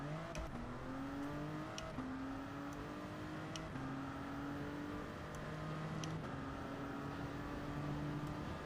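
Race car engine in Gran Turismo 7, a steady droning motor that climbs in pitch through repeated gear shifts, with brief sharp clicks between them, heard alone at low volume.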